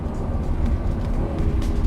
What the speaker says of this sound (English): The ICE motor behind your head makes a very significant noise in this car.